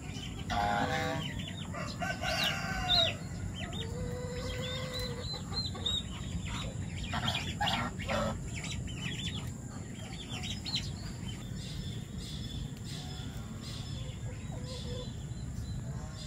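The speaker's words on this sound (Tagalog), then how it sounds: "Yang rooster natin bago yan" A rooster crows loudly near the start among steady clucking and chirping from a group of chickens on a farm, with a low outdoor rumble throughout.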